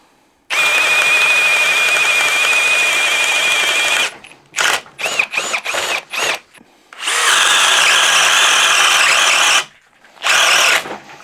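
A cordless homeowner drill runs under load in a comparison test, a loud sustained high whine that cuts out, then sputters in short bursts before running again briefly, with no talk.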